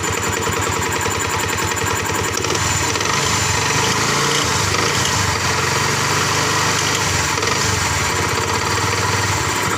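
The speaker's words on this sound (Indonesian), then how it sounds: "Ini bukan suara stang seher ya, ini cuma suara karet kopling." A Yamaha R15 motorcycle engine idles loudly and steadily, with a rhythmic rattling, knocking noise from worn clutch rubber on the right side of the engine block running through it.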